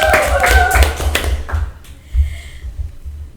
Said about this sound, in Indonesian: Tepuk tangan dulu dong semuanya.